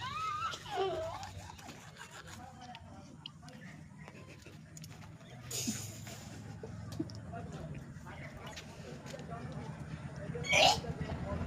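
Someone brushes their teeth with a toothbrush, a soft, intermittent scrubbing rasp amid room noise, with a few vocal noises and brief voices around it.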